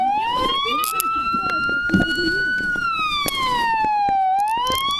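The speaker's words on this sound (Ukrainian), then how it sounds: "Таня, виключи сирену." A Ukrainian police patrol car siren wails loud and close without a break, its pitch rising and falling slowly through the whole stretch, while people talk and shout beneath it.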